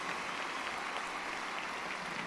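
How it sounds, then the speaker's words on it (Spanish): A large audience gives a strong, unbroken ovation to former French president Nicolas Sarkozy, a thick, even roar of clapping throughout, with no speech over it. "Despidamos con un fuerte aplauso, por favor, al expresidente de Francia, Nicolás Sarkozy, y al periodista José Cárdenas"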